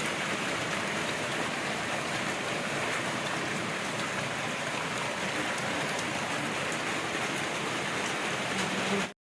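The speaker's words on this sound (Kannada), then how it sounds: "ಮಳೆ ಏಕಡೆ ಚಾಲು ಅಂತಾರೆ" Rain falls as a steady, even hiss that holds constant throughout, then stops abruptly at the end.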